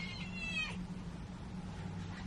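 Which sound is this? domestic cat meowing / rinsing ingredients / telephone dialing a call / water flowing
domestic cat meowing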